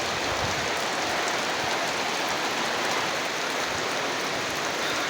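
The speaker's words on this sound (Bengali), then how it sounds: "খুব মোটা বৃষ্টি হচ্ছে।" Heavy rain pours down steadily over a riverside village after a night of rainfall, a dense, unbroken hiss that stays loud and even throughout with no voices.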